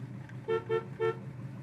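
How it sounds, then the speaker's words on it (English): Horn of a 1969 Chevrolet Camaro sounded from inside the car: three short, evenly spaced toots, clear and close over a low idle-like background hum. "inside our 69 Camaro, we have a horn"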